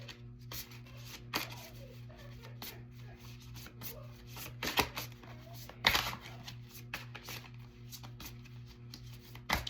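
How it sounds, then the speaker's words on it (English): Tarot cards are shuffled and pulled, with soft rubbing slides and scattered sharper card snaps and taps over a low steady hum, close and quiet. "let me pull some more cards"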